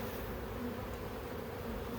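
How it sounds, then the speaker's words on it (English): A honey bee swarm buzzes steadily and densely up close, a continuous drone with no pauses or speech. "These bees are on here."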